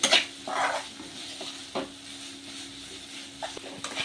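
Egg kheema curry stirred in a pan as garam masala and cumin powder are mixed in, with a soft steady sizzle, a few scraping strokes and light utensil taps, close and alone.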